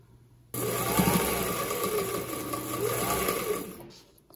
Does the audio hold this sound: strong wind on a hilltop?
no